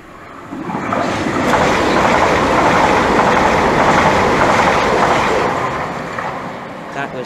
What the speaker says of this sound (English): now passing by is 1 Charlie 38, the 1525 Southeastern service from St Pancras International to St Pancras International